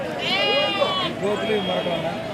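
Goats and sheep bleat at a busy weekly livestock market, with several overlapping wavering calls close by while people talk over them.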